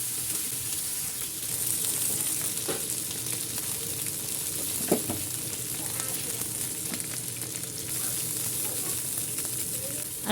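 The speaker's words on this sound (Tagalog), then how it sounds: "ipiprito muna natin ng bahagya" Chicken pieces for adobo briefly fry in oil in a pan, giving a steady, dense sizzle and hiss that holds evenly throughout, close up with a few faint knocks of stirring.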